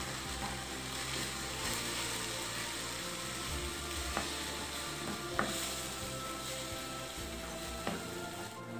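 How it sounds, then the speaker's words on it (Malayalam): Kerala-style rava upma is stirred in a pan on a stove, a faint steady sizzle with occasional soft scrapes and clicks of the spoon against the pan. "ഇനി എല്ലാം കൂടെ നന്നായിട്ട് മിക്സ് ചെയ്യുക."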